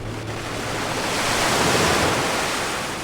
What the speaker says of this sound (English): as large waves begin to strike the cliff